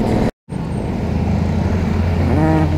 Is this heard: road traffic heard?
yes